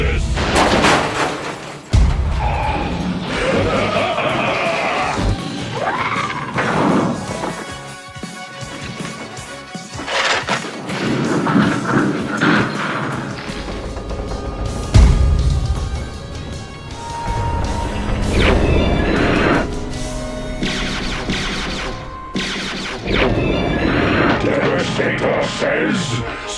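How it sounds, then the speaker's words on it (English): Transformers video game battle against the combiner Devastator: dense, continuous game audio of booming blasts, crashes and weapon fire layered over music, loud throughout, with voiced character lines mixed in. "Dinobots, destroy Devastator."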